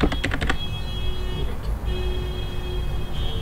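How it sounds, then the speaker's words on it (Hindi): Rapid keystrokes on a computer keyboard clatter in a quick burst at the start, then give way to a steady background hum with faint traffic noise. "देखिए just I am typing impress"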